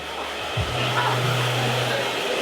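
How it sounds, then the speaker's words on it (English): A hair dryer blows steadily and loudly while a short fringe is dried forwards, a constant close airy roar with a faint hum throughout. "now when it comes to the fringe, I'm just drying it forwards"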